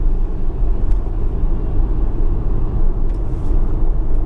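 A Tesla Model S on a UK road speeds back up from a 50 mph zone, its cabin filled with a steady low rumble of tyre and road noise that stays loud and even throughout, with no talk.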